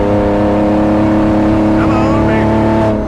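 A straight-piped Lykan Hypersport build laps a race track, its loud engine roaring steadily and close with a rising pitch sweep near the end, while a voice talks over it.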